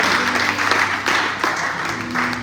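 Church congregation applauding during a sermon, a dense, continuous round of clapping with a few louder hand claps and a faint voice underneath.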